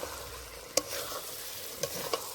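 Small mutton pieces sautéed in a pan, a steady sizzle with a few sharp spatula scrapes and clinks against the metal, close and without talk.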